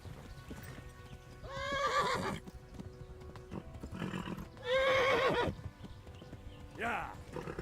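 A horse gallops in the medieval video game Kingdom Come: Deliverance, with rhythmic hoofbeats and repeated loud whinnies, while a person talks over it.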